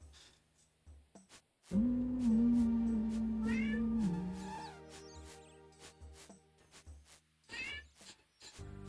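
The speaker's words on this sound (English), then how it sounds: "you guys can hear the cat meowing?" A single long, loud cat meow with a steady tone lasting over two seconds, preceded and followed by faint clicks and rustling.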